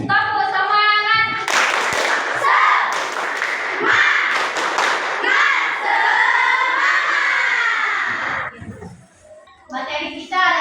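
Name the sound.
class doing rhythmic spirit clap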